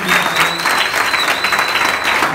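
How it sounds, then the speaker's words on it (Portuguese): A large audience at a school event gives a big round of applause, dense, loud, continuous clapping with no talking over it. "Por favor, uma salva de palmas bem grande"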